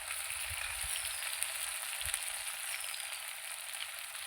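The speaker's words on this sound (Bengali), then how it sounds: "আমি তো আলুগুলো ভেজে দিচ্ছি" Potatoes frying in a pan give a continuous bright sizzle, close and even, with a few soft low thumps from stirring and no talk.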